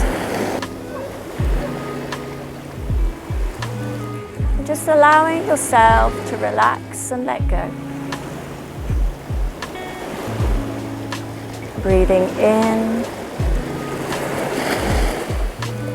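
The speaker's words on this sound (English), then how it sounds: "hearing the water all around you" Water washes and laps steadily in the background while a calm voice speaks slowly over it, with occasional louder surges of water.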